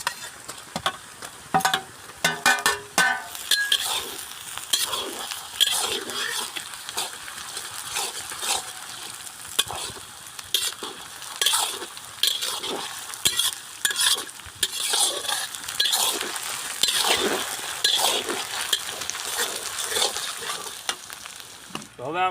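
Masala crackling and sizzling in hot oil in a pan while a spoon stirs it, busy spitting bursts with scraping strokes, close and continuous.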